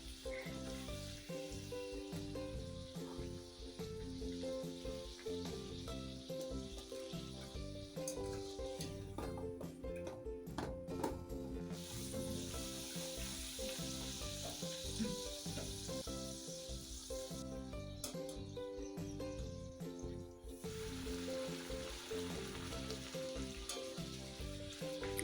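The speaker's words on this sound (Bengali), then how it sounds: "এপিট ওপিট করে ভালো করে ভেজে" Koraishutir kochuri frying in hot oil, a steady dense crackling sizzle that runs without a break and surges in brighter bursts now and then, close but quiet, with no one talking.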